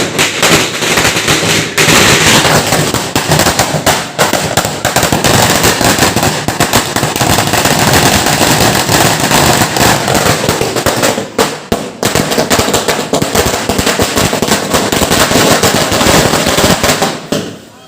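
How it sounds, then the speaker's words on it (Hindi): A long, dense barrage of firecrackers popping in rapid, continuous bursts, loud and close, with a brief lull partway through, set off to welcome a baby home. "पटाखा चला"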